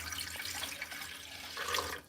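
Water poured into a Zojirushi bread machine pan, one and a half cups going in as a steady splashing pour for about two seconds that swells briefly near the end, close and moderately loud with no talk.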